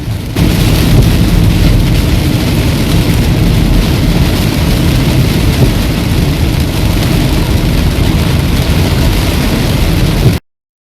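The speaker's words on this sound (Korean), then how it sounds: "비상등 켜고 천천히 가면서 듣는 빗소리 정말 묘한 매력이 있는 것 같습니다" Torrential rain pounds a car driving slowly on a road toward a mountain temple, a loud, unbroken roar of water drumming on the roof and windshield that fills the whole stretch, then cuts off abruptly.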